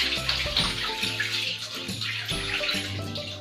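Water splashes and trickles over a screen-printed cotton T-shirt design as it is poured on, with bursty gurgling pours and drips close by and several sharp restarts.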